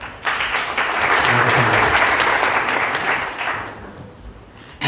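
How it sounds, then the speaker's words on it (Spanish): Conference audience bursts into sustained clapping, a dense, loud wash of many hands that swells quickly, holds for several seconds, then gradually thins out. "Un aplauso, por favor."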